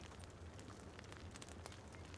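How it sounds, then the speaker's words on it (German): A crackling fire in the city-building video game Timberborn, a soft, continuous hiss and rumble dotted with small irregular pops and snaps, faint and without voices. "Ich kann sogar das Feuer knistern."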